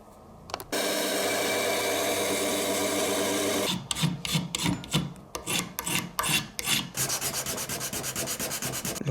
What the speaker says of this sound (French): un outil pour poncer le dessous des pieds